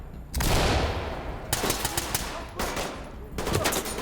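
Rapid bursts of close gunfire from an MCX-style rifle in the tactical shooter Ready Or Not, loud and sharp, coming in three separate volleys with brief gaps between them.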